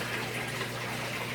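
An aquarium filter, an AquaClear 110 or a Fluval FX6, pushes a steady hissing stream of water, soft and constant with no change, and no voices.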